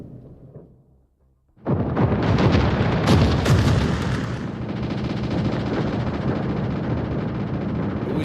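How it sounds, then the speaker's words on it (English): Torpedo strike explosions in World of Warships, a quiet lull then a sudden heavy booming impact with layered blasts that settle into a loud, sustained rumble. "Ossium's Henri is going to try and cap with a torpedo strike coming in."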